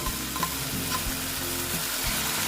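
Mustard paste hitting frying tilapia in a hot pan gives a loud, steady sizzle up close, broken by a few soft scrapes of stirring.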